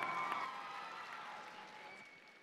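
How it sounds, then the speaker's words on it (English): A crowd applauds at a state FFA talent show, steady clapping near and fairly loud at first, then gradually fading over a couple of seconds with no talking. "Let's hear a big round of applause."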